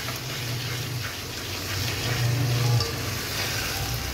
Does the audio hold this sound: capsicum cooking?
yes